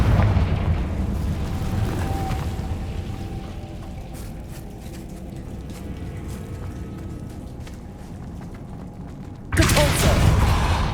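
A Confringo blasting spell explodes in Hogwarts Legacy: a rumbling, eruptive roar that fades over several seconds, followed near the end by a sudden loud burst of noise.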